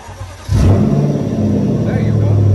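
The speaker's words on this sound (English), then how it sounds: "So now we can go ahead and start the car." A car engine catches and starts abruptly on a portable emergency jump starter, settling into a steady loud rumble right after a quiet moment.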